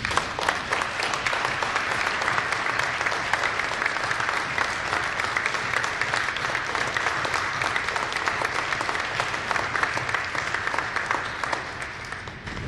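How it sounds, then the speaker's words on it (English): Sustained applause from the audience at a college Veterans Day ceremony, honoring the family members of service members; dense, even clapping with no breaks across the whole stretch, steady and fairly loud before tapering slightly at the end. "let's give them a big round of applause."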